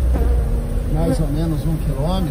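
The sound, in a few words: bees swarming out of a car full of bees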